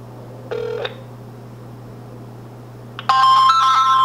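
A short electronic tone, a pause, a click, then a bright digital chime melody as a phone call connects to a T-Mobile carrier support line, over a low steady hum.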